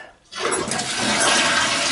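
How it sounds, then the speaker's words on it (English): A household toilet flushes in a normal cycle, starting with a brief click and then a loud, steady rush of water as the tank empties, with no voices. "I'm going to go through a normal flush."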